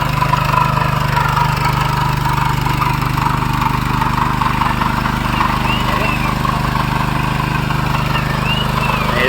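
Power tiller engine running steadily at a constant idle-like chug, loud and close, with a low rhythmic pulse throughout and no break in sound.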